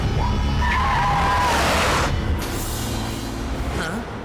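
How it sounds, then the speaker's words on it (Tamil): Tyres of a car in an animated action cartoon skid with a loud, sustained screech that holds strong for about two seconds, then trails off into a lower rumble with brief squeals near the end. "திடீர்னு இந்த கார் எங்க இருந்து வந்தது?"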